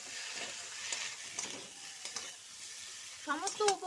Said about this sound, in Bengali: একসঙ্গে খুব ভালো করে মিশিয়ে নেব সমস্ত উপকরণ।